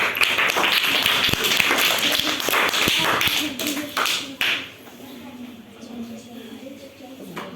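Children in a classroom clap for a classmate, a burst of quick, uneven claps and taps that fades out midway into a quieter room.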